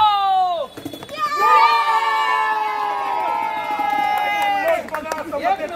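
A crowd cheers and shouts loudly at a Republic Day constitution rally from Dadar Chaityabhoomi to the Gateway of India, with sustained raised voices and a brief dip before the cheering swells again.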